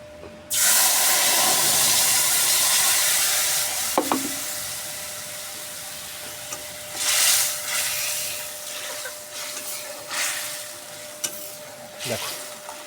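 Ground spice paste of mustard, ginger and green and dried chillies fries in hot oil, a broad steady hiss and sizzle with occasional spatula clinks and stirring bursts, close and loud throughout.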